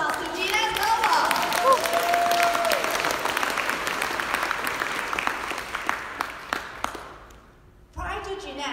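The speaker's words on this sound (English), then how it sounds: "So should we clap our hands? Give a round of applause to Jeunesse Global." An audience at a Jeunesse Global business presentation breaks into loud, sustained applause that gradually thins and fades out, after which a speaker's voice resumes.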